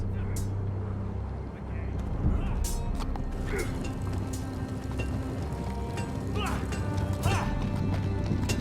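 Horse hooves clop in an irregular rhythm as a rider arrives in a Game of Thrones adventure game, with scattered thuds and rustling over a low ambient hum, and faint voices in the background.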